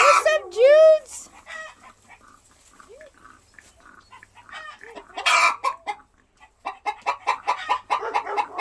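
Chickens on a farm squawk, holler and cluck in loud bursts, including rising crow-like calls, with quieter gaps between outbursts and a person talking among them.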